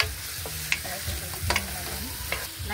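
Adobong kangkong being stirred as it fries in a pan, with a steady close sizzle under intermittent scraping and clinking of the utensil against the pan, and no talking.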